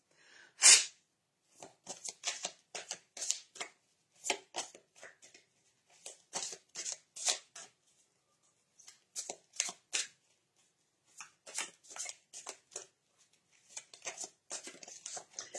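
Tarot cards are shuffled by hand in quick, crisp riffling bursts, a sharp snap near the start, then repeated papery flurries separated by short pauses, close and fairly quiet.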